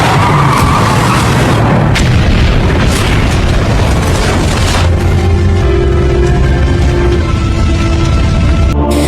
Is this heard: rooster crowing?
no